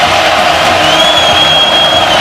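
A college football stadium crowd during an Oklahoma versus Auburn game on third down, a dense, loud roar of cheering that holds steady throughout.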